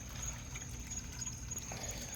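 Water trickles steadily from a backyard pond waterfall into a pond of roughly 280 to 300 gallons, a continuous soft splashing flow heard alone at close range.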